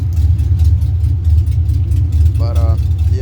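A 1989–1998 GMC Sierra truck with a swapped 2002 5.3 LS engine and an unplugged, loud exhaust idles with a steady deep rumble, a brief voice cutting in near the end.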